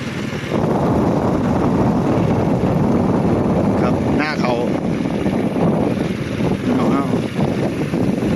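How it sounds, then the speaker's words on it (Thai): Motorcycle engine hum and heavy wind buffeting while riding through rural forest trails, loud and continuous throughout, with a voice speaking over the roar. "เสียงมอไซค์เสียงลม"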